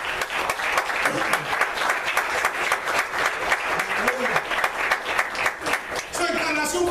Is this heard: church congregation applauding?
yes